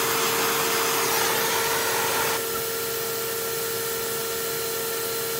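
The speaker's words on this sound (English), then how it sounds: "Leave the vacuum on a little while." A loud, steady vacuum motor drones with a constant whine while casting sterling silver, then drops slightly in intensity partway through and keeps running evenly.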